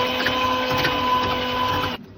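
An electric blender runs nonstop on egg whites at a steady high whir, loud and close, then cuts off abruptly near the end.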